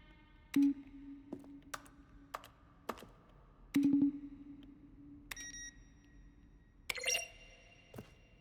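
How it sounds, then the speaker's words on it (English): Video game button presses, each a keyboard keystroke blended with a short synthesized tone, sound as a sequence of sharp clicks, some followed by sustained electronic beeps, spaced irregularly and heard alone against quiet. "Each sound is a mix of a keyboard stroke and an synthesized tone."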